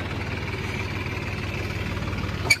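Massey Ferguson 245 DI diesel tractor engine idling steadily nearby, a low rhythmic chugging throb running throughout, with a brief sharp click near the end.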